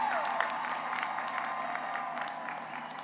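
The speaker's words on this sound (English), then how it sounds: "Let's give them a round of applause." Graduation audience applauding at a 2021 high school ceremony, a steady wash of clapping from a large crowd that holds evenly for the whole stretch, with no talk over it.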